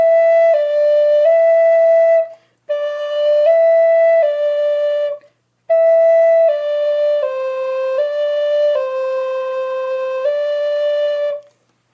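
An A-tuned Native American flute plays a rhythmic melodic line in three phrases separated by short pauses, each made of held, steady pure tones stepping between a few pitches, close and clear with no voices.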